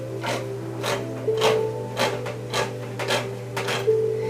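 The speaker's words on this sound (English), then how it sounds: "I'm going to open up this other can of tomatoes" A can of tomatoes is opened in a home kitchen for chili, giving a steady series of short scraping, ratcheting bursts at an even rhythm, close and clear over a constant low hum, with no talking.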